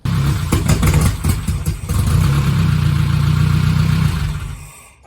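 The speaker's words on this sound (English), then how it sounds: "cut to the clip of it bogging here" A 1985 Nissan 720 pickup with a swapped KA24E engine revs unevenly, its low rumble stumbling and bogging under throttle before steadying into a loud, rough drone that fades out at the end.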